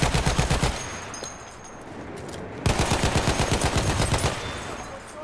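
MG15 machine gun in the Battlefield 1 video game firing long sustained bursts, loud and rapid, with a short pause before the stream of shots picks up again.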